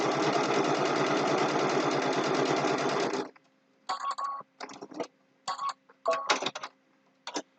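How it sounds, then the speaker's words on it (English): A sewing machine stitches a quilt block seam, running steadily and loudly for about three seconds, then stopping; short bursts of handling and clicking noises follow. "I'll take my pin out and finish stitching to the end."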